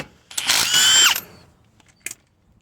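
A power impact wrench spins lug nuts off the wheel of a 1995 Mitsubishi Eclipse GST in a loud, whining burst of just under a second, followed by a brief metallic clack and quiet.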